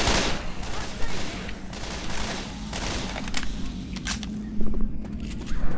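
Rapid gunfire from the Left 4 Dead 2 video game crackles in dense, continuous bursts with sharp individual shots standing out over a busy backdrop.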